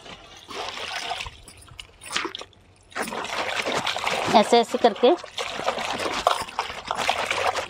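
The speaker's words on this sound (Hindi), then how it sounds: "आ गया है नल में पानी" Tap water trickles and splashes steadily while someone rinses vegetables for sarson ka saag by hand, with a person speaking briefly over the running water.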